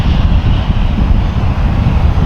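An airplane taking off at an airport gives a steady, loud low roar of engine noise with a windy rush, continuous and unbroken with no voices over it.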